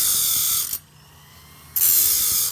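A homemade bandsaw blade sharpener grinds the teeth of a wood bandsaw blade with a loud, close, steady buzzing whine. The whine cuts out for about a second, then resumes.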